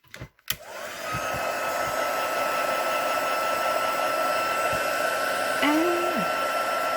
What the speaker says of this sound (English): I'm going to blast it again with the heat tool.